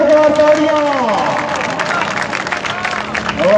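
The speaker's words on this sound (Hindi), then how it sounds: "मूसा शाह से जोरदार तालियां।" A crowd applauds Moosa Shah at a local players' gathering, a burst of clapping and cheering with a voice calling out over it.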